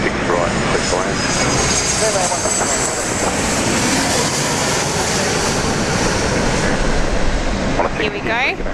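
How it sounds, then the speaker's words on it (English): Jet airliner approaching to land on runway 16 right at Sydney International Airport, a loud sustained engine roar mixed with wind rumble that swells slightly near the end as the aircraft passes close. "wind 110 degrees at 8 knots, runway 16 right, clear to land."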